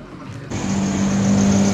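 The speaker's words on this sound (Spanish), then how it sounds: "ay Dios mío, el ruido de los carros" Cars on a street, a vehicle engine swelling into a steady loud hum as it approaches and passes close by, with no talking.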